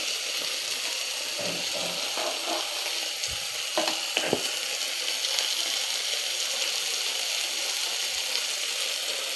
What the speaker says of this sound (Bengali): পটল ভালো করে 5 মিনিট কষে নিতে হবে।